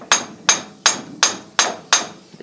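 Six evenly spaced sharp hammer taps ring out on the front U-joint of a 2007 Dodge Ram 2500 4x4, each metallic strike decaying quickly, close and clear with no talking.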